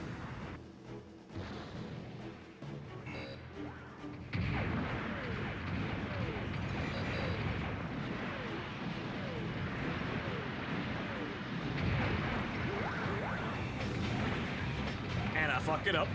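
A mobile suit fires and takes hits in the Gundam game Journey to Jaburo, giving dense rumbling bursts of game gunfire and explosions that swell after a quieter opening and run continuously to the end.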